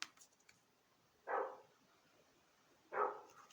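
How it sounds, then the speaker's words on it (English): Two distant dog barks outdoors, each a short muffled burst about a second and a half apart, faint against a quiet background with a few light clicks at the start. "They're actually dogs."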